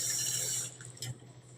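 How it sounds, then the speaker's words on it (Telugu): Running water splashes over bitter gourd pieces being washed in a bowl or sink, a continuous wet rush that thins out toward the end, with a few drips and clinks. "మజ్జిగంతా వంచిన తర్వాత దీన్ని 2 సార్లు ఇలా వాటర్తో నీట్గా కడగాలండి."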